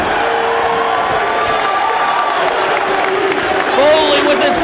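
Wrestling arena crowd cheering and applauding at an anniversary event, a loud, steady roar of many voices and clapping that fills the whole stretch without letup.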